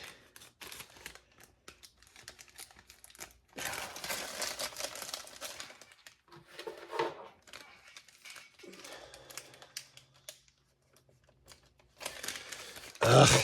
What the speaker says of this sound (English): Open hopefully open our super huge trash bag.